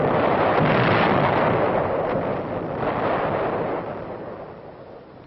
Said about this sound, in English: The sound of shells going over can be a mighty friendly sound.